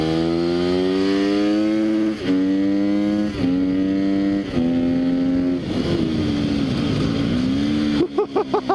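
A Sherco 300 SEF-R trail motorcycle ridden through tight corners, its engine droning loud and close with rising and falling pitch as the rider shifts and revs, ending in a few short throttle blips.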